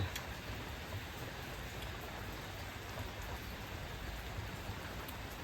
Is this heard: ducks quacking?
no